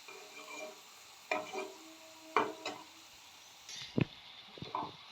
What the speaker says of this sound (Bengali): আমি এই একই কড়াইয়ের মধ্যে পেঁয়াজটাকে দিয়ে দিয়েছি তেলটার মধ্যে, এটা এখানে ভাজা হয়ে যাবে